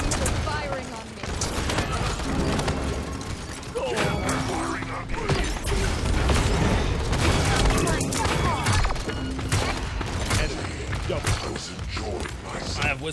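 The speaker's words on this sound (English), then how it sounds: "Enemies are firing on me." Rapid gunfire and weapon effects from the fantasy shooter Paladins: Champions of the Realm, a dense continuous barrage with clanks and impacts under a voice talking.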